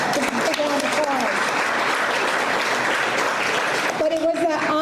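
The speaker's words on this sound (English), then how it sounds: "Big round of applause." Crowd applause at a restaurant week tasting event, loud sustained clapping from many hands with voices underneath and talk resuming near the end.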